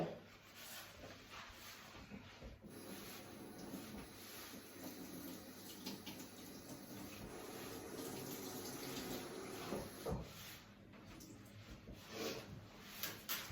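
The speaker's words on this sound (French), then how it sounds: "Un petit verre avec un petit peu d'eau chaude." Hot water trickles and splashes faintly into a small glass, a soft continuous running sound close by with no voices.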